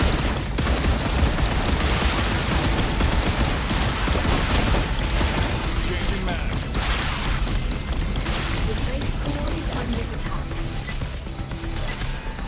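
Rapid automatic gunfire from a defense tower in the video game StarRupture, a dense, continuous stream of loud shots and mechanical clatter that keeps on throughout, with busy game sounds and some talk mixed in.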